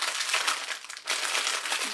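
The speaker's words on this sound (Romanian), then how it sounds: "Asta o să fie un clip cu multă foșneală," Crinkly plastic packaging of an AliExpress haul item, a hair headband in a small bag, is rustled and handled up close, giving a continuous loud crackling with a brief pause midway.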